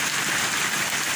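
Rain pouring steadily in Morocco, a dense, loud broadband hiss of water striking surfaces, continuous and close with no pauses.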